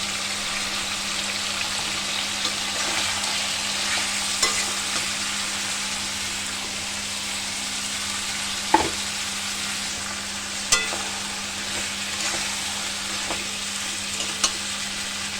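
Two large onions fry in a pan for a chicken curry, a continuous close sizzle with intermittent scraping and clacking stirs of a spatula, a few sharper knocks standing out.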